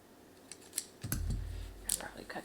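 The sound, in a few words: scissors cutting ribbon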